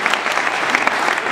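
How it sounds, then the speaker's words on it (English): An audience applauds for Patrick with a brief, dense burst of many hands clapping together, steady and fairly close. "Applause for Patrick."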